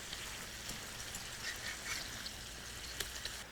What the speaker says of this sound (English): So while the chicken is sauteing